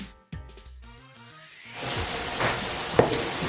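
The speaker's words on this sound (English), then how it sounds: "now is just to keep on stirring this pepper until the pepper is completely fried." Pepper mix for a Nigerian party jollof rice fries in a large pot. A dense, steady sizzle sets in after a brief musical opening, and a few sharp scraping knocks from the stirring spoon stand out on top.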